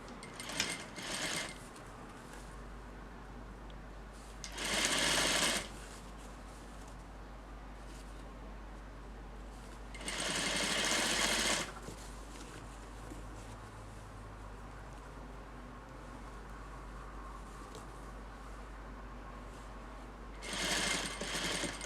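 Sewing machine stitching an invisible zipper onto a gathered dashiki skirt, heard in three separate bursts of steady buzzing whir with quiet pauses and faint room hum between them.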